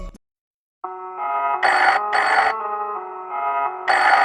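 A phone rings loudly and close in a studio, a bright electronic ringtone melody that starts after a moment of silence and repeats in bursts without any talking over it.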